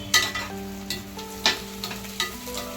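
Softened onions with salt are stirred in a pan for veg kurma, producing a soft frying hiss with several distinct scraping strokes of the spoon, close and fairly quiet, without talk.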